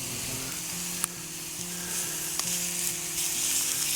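Beef patties and onions sizzle steadily over a campfire in freezing winter conditions, a constant close frying hiss with a couple of sharp pops and crackles, no talking.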